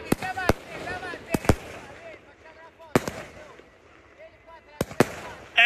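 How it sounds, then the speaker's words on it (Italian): Fireworks bursting on a beach: sharp, loud explosive cracks in irregular pairs and singles, with excited voices talking and shouting between the blasts. "mi presenti i fuochi d'artificio?"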